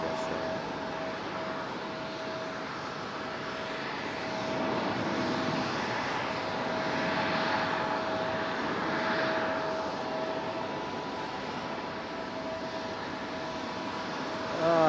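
An American Airlines A321 jet flies near an airport. A broad engine roar swells in the middle and then eases, moderately loud and heard from a distance, with a thin steady tone beneath.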